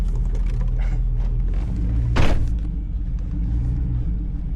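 A GMC truck engine fitted with Scatpack mufflers idles with a deep, steady rumble, close by, with a brief sharper burst midway before settling back to a low drone.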